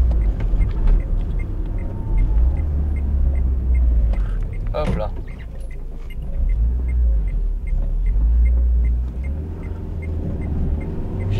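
Renault Twingo driving through the countryside in the rain, a steady low road rumble and engine drone inside the car, swelling and easing with speed, with a brief spoken exclamation partway through.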